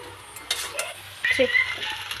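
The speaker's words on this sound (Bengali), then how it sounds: "ভালো করে মিশিয়ে নিচ্ছি।" Fried rice ingredients with melted sugar are stirred and fried in a pan, giving a soft steady sizzle with intermittent scraping and clinks of a utensil against the metal.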